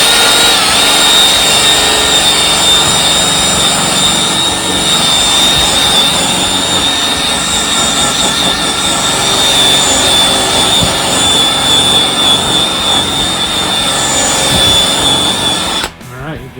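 A power polisher spinning a prep tool buff ball gives a loud, continuous high-pitched whine with a steady motor drone that runs without a break until it cuts off at the very end.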